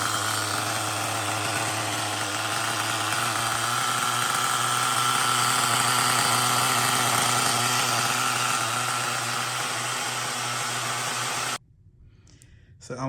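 An LRP 32x Spec 4.1 nitro RC engine idles steadily through a break-in tank, a loud, continuous buzzing drone held for about eleven seconds before it cuts off abruptly, leaving near silence.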